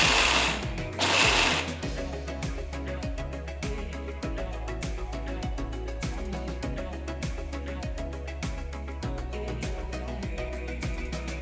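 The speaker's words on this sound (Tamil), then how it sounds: "வறுத்த வேர்க்கடலையை மிக்சர் ஜாரில் மாற்றி கொரகொரப்பாக அரைங்க." A mixer grinder coarsely grinds roasted peanuts in its jar, a steady loud mechanical whir with rapid rhythmic rattling and clicking of nuts against the blades, briefly surging louder near the start.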